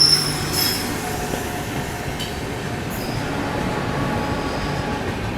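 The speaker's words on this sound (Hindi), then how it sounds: "ये देखो अभी ये कानपुर से छूटी है कोई ट्रेन।" A train rolls past near the Kanpur outer, a steady rumble of wheels on rail with faint squeals and brief clicks throughout, fairly loud and unbroken.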